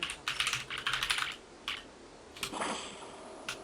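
Fast clacking on a computer keyboard entering a cheat code in Aliens versus Predator 2, several quick bursts of keystrokes with short pauses between them, near and fairly quiet.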